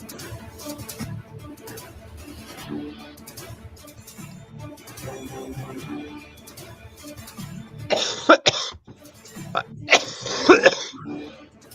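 Two harsh bursts of coughing stand out near the end, loud and close, after a stretch of quieter murmuring background sound.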